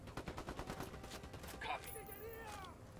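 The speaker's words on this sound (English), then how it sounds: "Ready? Open fire." Rapid bursts of automatic gunfire in the video game Ghost Recon Wildlands, a steady rattling volley through the first half, followed by a sharper crack and ringing metallic tails, with game voices mixed in.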